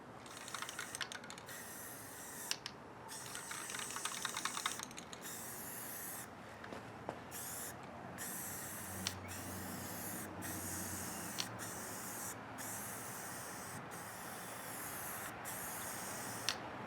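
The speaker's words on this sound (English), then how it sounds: "The stencil goes over the edge of the mat so that I can spray all the way to the edge." Spray paint hisses from a can through a stencil laid over the edge of a wargaming battlemat. Several short close bursts come first, then longer steady spraying broken by regular brief pauses.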